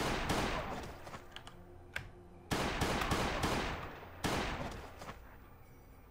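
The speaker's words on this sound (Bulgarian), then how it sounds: "Кой стреля?" Bursts of gunfire in the survival game Last Day on Earth: three loud, dense volleys separated by short gaps with a single crack between them, heard alone and fairly near.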